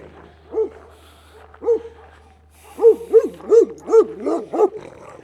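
Dogs in a Portuguese neighbour's garden bark at someone passing by, a couple of spaced barks followed by a quicker run of five or six sharp barks, close and clear with no talking.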